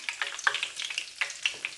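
Fish pieces and flour in hot frying oil for choukouya, a steady close sizzle with short bursts of crackle and light scraping, no talking.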